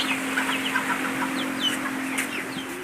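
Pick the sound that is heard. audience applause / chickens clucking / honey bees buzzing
chickens clucking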